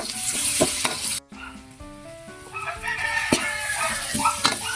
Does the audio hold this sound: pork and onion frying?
yes